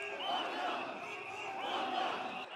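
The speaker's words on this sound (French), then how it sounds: "La foule scande des slogans hostiles au gouvernement." Crowd chanting hostile slogans at a protest in Nairobi, a dense, steady roar of many voices holding an even loudness with rhythmic swells throughout.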